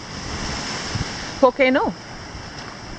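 Ocean waves wash onto the shore beside a seaside cave near Malaga, a steady broadband surf hiss filling the background while a voice briefly speaks over it midway.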